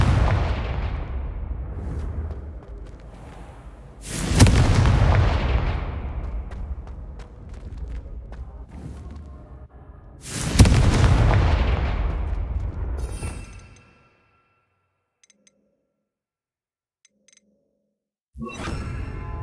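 Confringo fire-spell blasts from the Hogwarts Legacy video game: two loud booming explosions with whooshing, rumbling tails a few seconds apart, then near silence before another burst starts at the end.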